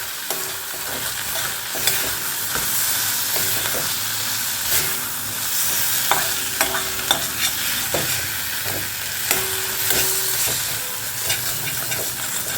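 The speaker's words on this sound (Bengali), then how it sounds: "যা যা রেগুলার স্পাইসেস আছে সব দিয়ে একটু কষছি" Spices being stir-fried with regular masalas in a steel pan, a steady sizzle and hiss with repeated scraping strokes of a spatula against the metal, close and continuous.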